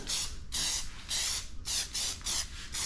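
Aerosol spray paint being applied in light coats, heard as about five short, close hissing bursts separated by brief pauses, fairly quiet and with no voices.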